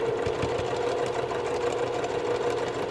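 A sewing machine runs continuously while stitching a quarter-inch quilt seam, a loud, close, steady motor whir with a rapid needle chatter underneath, no pauses.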